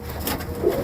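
Pigeons coo at a seller's stall with many kinds of pigeons for sale, soft low coos close by over a quiet background with no talk.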